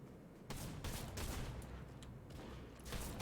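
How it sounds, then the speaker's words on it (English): Gunfire in a video game crackles in repeated bursts of shots, loud and fairly close, with no talking over it. "somebody's shooting at me from over there."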